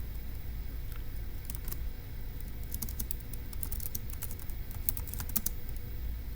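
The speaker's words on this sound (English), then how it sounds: "So let me go ahead and type that up" Keys clack on a computer keyboard as notes are typed for a logic puzzle. The taps come in quick, irregular bursts, faint against a low background hum, and no one speaks.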